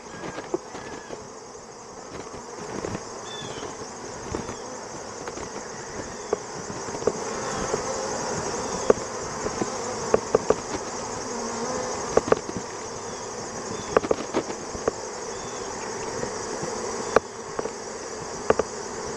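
Honeybees bearding and flying around a hive entrance, a close continuous buzzing drone with scattered ticks and bumps, no talking.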